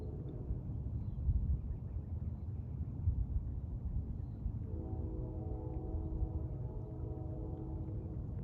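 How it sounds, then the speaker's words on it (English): Far off across the river beyond the hills, a train on the CSX River line near Ardsley-on-Hudson gives a faint, distant horn tone over a low rumble and wind noise. "That's a train on the CSX River line across the river and beyond those hills."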